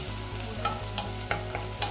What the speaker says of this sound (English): So add that ginger